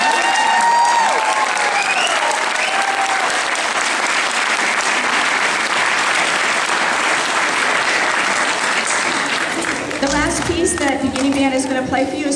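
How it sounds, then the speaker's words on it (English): Loud, sustained applause from an audience, steady clapping that fills the room for several seconds before tapering near the end. "I think they deserve another round of applause."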